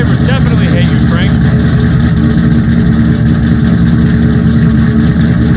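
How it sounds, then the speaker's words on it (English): A Shelby GT's engine cold-starts through blown-out mufflers, a loud, raw, rumbling idle that fills the whole stretch close by, with voices talking over it. "4-day cold start with some blown up mufflers."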